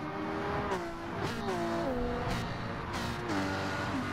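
Racing touring cars sweep past a trackside camera one after another, engines rising and falling in pitch as each passes, with repeated loud whooshes over a continuous engine roar.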